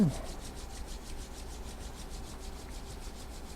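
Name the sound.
rubbing hands together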